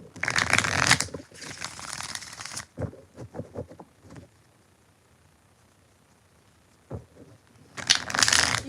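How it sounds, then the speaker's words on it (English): Tarot cards shuffled by hand in loud riffling bursts at the start, middle and end, with softer taps and handling sounds and a quiet pause between, close by and without talk. "Let's do 3 more shuffles."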